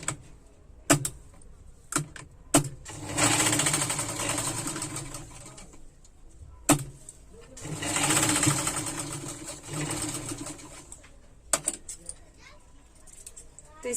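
An electric sewing machine stitches lehenga fabric in three loud, close bursts of rapid whirring, separated by pauses filled with sharp handling clicks and thumps.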